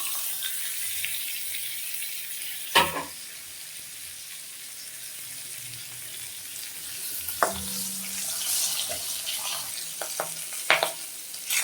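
Boal fish tail frying in hot oil, a steady broadband sizzle running throughout with a few sharp clinks and scrapes of a utensil against the pan, close and fairly even in loudness.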